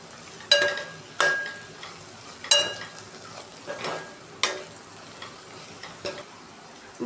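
A spoon stirs turmeric, salt and chili powder in a pan for ivy gourd masala, giving several sharp scraping strokes at an irregular pace over a low, steady background hiss.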